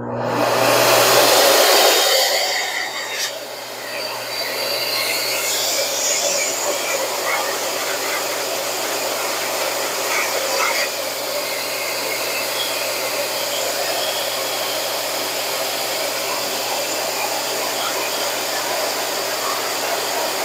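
A pet grooming dryer starts up and blows air with a steady, loud whooshing roar that continues without a break; a brief low hum is audible at the start.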